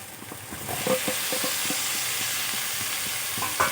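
Figs and potatoes being stir-fried together in spice paste, a steady close sizzle with repeated scraping and stirring knocks from a spoon in the pan, no voices.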